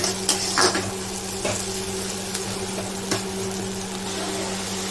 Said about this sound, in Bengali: পেঁয়াজ কুচিগুলো সব ভেজে নেবো